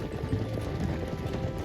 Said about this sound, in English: I loved petting all the horses and then watching them get turned out to pasture